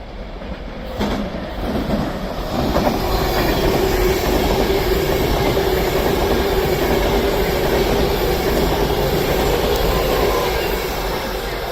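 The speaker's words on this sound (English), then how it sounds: "Getting ready to pass through now is an Avanti West Coast Class 390 from Lancaster" An Avanti West Coast Class 390 from Lancaster to London Euston passes through Crewe station on the West Coast Main Line, its loud rushing roar building over the first seconds and then holding steady with faint wheel clatter, no voices.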